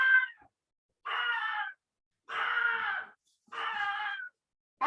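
A dog lets out a series of high, bird-like screams, four drawn-out cries each lasting about half a second to a second, loud and close with silent gaps between them.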